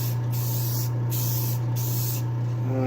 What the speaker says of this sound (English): So using a can of Rust-Oleum matte clear